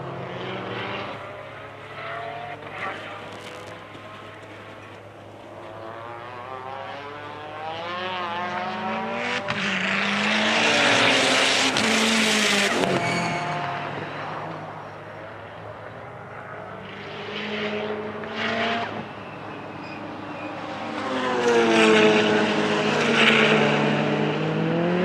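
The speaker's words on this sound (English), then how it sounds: "Nothing like the sound of a heavily breathed upon Subaru Flat 4" A tuned Subaru flat-four race car at a time attack event runs loud and close on track, its engine rising and falling through revs in long sweeping pulls with a harsh, busy top end.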